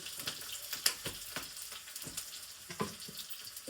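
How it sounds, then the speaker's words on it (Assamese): Fenugreek seeds dropped into hot oil for a pumpkin and jackfruit-seed curry, giving a soft, steady sizzle with a few crackling pops and stirring scrapes, fairly close and fairly quiet, with no talking. "এতিয়া মই মেথি গুটি দিম।"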